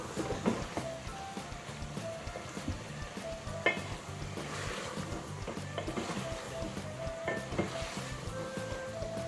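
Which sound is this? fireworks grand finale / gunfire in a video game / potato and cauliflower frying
potato and cauliflower frying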